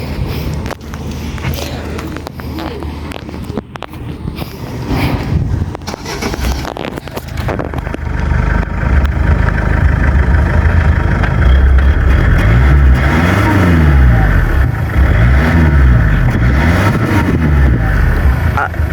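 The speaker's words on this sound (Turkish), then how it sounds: "Aracın sesi böyle arkadaşlar." A Citroen C3 with a 1.4 HDi diesel engine runs close by, a steady loud rumble that builds and swells with revving partway through, while people talk over it.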